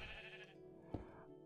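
A single Minecraft sheep gives one short, wavering bleat, quiet and alone.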